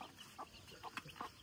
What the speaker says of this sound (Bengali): আর এই হচ্ছে যে মুরগি বাচ্চাগুলা